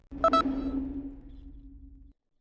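A quick metallic clank with a ringing electronic ping that sustains and fades over about two seconds, then silence; the swivel gun target lock sound during naval combat in Assassin's Creed Black Flag.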